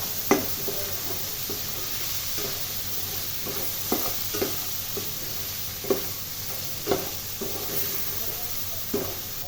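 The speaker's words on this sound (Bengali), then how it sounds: "এবার ১ টেবিল চামচ লবণ এবং ২টি তেজপাতা দিয়ে ডাল খুব ভালো করে কষিয়ে নিচ্ছি ৪-৫ মিনিটের জন্য" Chana dal sautéed in a pan with salt and bay leaves, a steady low sizzle under periodic scraping stirs that clack and rasp every second or so, close and moderately quiet.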